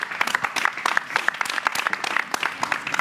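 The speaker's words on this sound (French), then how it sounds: "Oui, c'est vrai, on peut applaudir." Audience at a French music television show breaks into applause, a lively patter of individual claps with sharp distinct hits, moderately close and continuing throughout with no voices over it.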